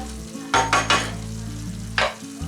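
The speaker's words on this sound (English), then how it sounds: "Now I'm going to cook the onions and the garlic." Onions and garlic frying in olive oil in a pan, a steady close sizzle with a few louder bursts of stirring.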